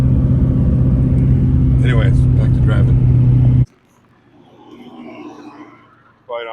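Close, loud interior drone of a Dodge Durango being driven, with steady low rumble and engine hum for several seconds before it cuts to a quieter scene with faint background noise and a voice at the end.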